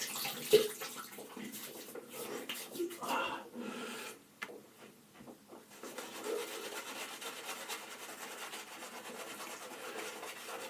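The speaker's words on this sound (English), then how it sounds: "Rinse my face." Running water splashes and rubs over a face during a rinse while shaving with a straight razor, a steady close wet wash with brief pauses.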